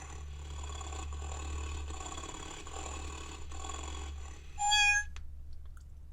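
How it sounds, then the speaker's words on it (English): A cat-face toy keyboard gives off a low, steady electronic purr that hums quietly for several seconds, then a brief synthetic meow rises near the end before it falls almost silent. "if you leave this on, it purrs and makes that meow sound"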